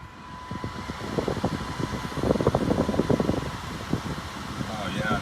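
A car starts up and its air conditioning fan blows, a steady rushing whoosh rising in strength, with someone talking over it.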